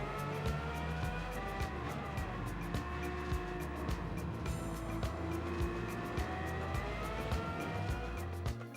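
A Lamborghini Countach fitted with an Aventador engine swap, driven in the racing game Gran Turismo 7, roars continuously, its pitch rising and falling through gear changes, loud and close with no voices.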